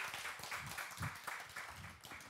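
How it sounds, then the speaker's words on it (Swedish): A tent audience at a political event in Almedalen applauds steadily, a dense continuous clapping that holds at moderate level for a couple of seconds with no voices over it. "Får vi lite applåder."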